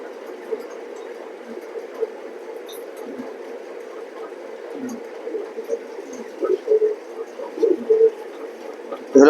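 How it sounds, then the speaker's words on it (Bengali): Young racing pigeons in a loft give soft, continuous cooing and bird murmurs, with a few louder flutters and bursts near the end. "ইয়াং কবুতর এগুলো কিন্তু সব ভালো ভালো কবুতর"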